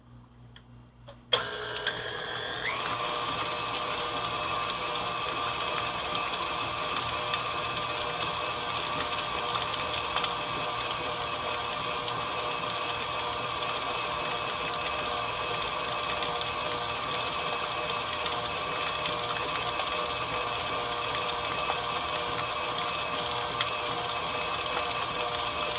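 An electric hand mixer blends cake cookie batter in a steady, continuous whir that starts abruptly after a brief quiet moment and holds at an even level with no talk, about one to two minutes of mixing.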